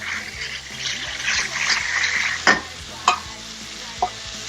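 Ingredients for Singapore noodles sizzle and hiss steadily in a new Korean-made non-stick pan, with a few sharp scraping knocks as they are stirred.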